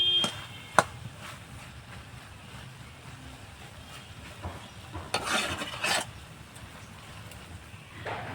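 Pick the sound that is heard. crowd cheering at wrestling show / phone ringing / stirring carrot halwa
stirring carrot halwa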